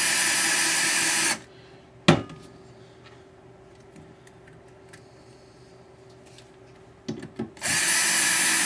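A power drill drives small motor screws into holes on a kit build, with a loud whirring burst at the start, a sharp clunk, quiet handling clicks, and another whir kicking in at the end.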